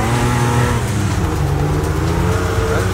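A car engine in Wreckfest revs hard and steadily, a loud, sustained droning whine that rises and holds as the small-wheelbase racer drives, with no talk over it.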